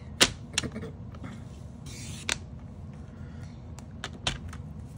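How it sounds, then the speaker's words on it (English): A strip of paper is cut to length for a folded paper craft. A few sharp snips and clicks sound close up, separated by quiet pauses, with no talking. "So I'm gonna make my little cut here, the 5 3/8 inch."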